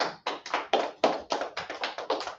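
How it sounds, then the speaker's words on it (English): Brisk clapping from a small group at a Sabbath church service, a quick, fairly even burst of hand claps heard close and clear with no talking over it. "let's clap it up"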